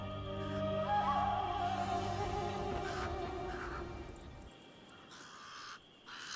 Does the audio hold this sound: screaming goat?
no